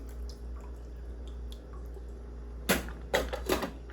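Broth drains from a can of chicken, a few brief splashing, dripping bursts near the end after a quiet stretch of low background hum.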